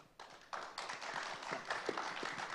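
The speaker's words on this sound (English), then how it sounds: "you're only clapping now out of sympathy because you clap for Bethnam" A conference audience claps in scattered, uneven bursts that start thin and build into a moderate ripple of applause, heard at a distance.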